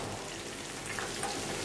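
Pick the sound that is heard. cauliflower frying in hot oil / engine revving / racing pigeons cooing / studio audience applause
cauliflower frying in hot oil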